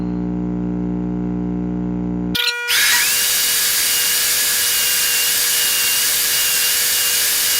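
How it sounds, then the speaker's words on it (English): A steady electric hum gives way to a power saw spinning up and cutting into a wooden part for a lighthouse model build, a loud continuous close whine with no talk. "I'm going to go ahead and cut this out on the saw"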